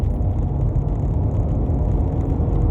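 A 2015 Ford Escape accelerating and downshifting, heard from inside as a steady, fairly loud engine drone and road rumble with no clear shift break.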